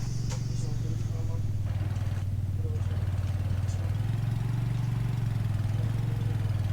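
A car engine idles in a zombie video game, a steady low hum running throughout at moderate level, with faint background sounds and voices.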